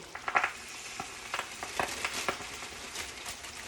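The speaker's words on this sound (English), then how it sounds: "Now that our butter is ready and is browning, we are going to add 7 ounces of spinach." Fresh spinach from a bag dropped into browning butter in a pan sizzles and crackles steadily, with scattered louder pops and stirring clatter over a continuous frying hiss.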